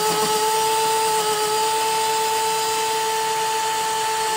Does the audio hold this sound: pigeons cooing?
no